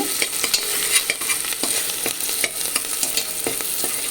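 Mutton pieces sizzle steadily in a pan for curry while a spatula stirs them with repeated scraping strokes, close and moderately loud, with no talking.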